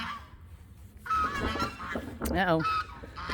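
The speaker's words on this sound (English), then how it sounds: "The geese are awake. Part of them. Noisy ones." Geese honk in a noisy burst of nasal calls partway through, with a person speaking briefly among them.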